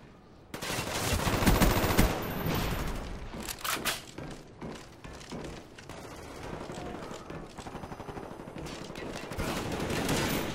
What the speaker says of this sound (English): Shoot through that box.